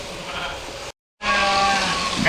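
Sheep bleat loudly and near during shearing on a farm, one call before a brief dropout and a longer wavering bleat after, over steady background noise.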